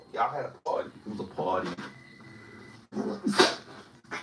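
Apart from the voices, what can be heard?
sneeze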